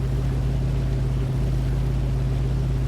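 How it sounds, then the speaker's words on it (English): A V8 car engine idling in the racing game Test Drive Unlimited Solar Crown, a steady, deep, rumbling burble held close and constant throughout with no other sounds. "Just check out the burble of this V8 at idle."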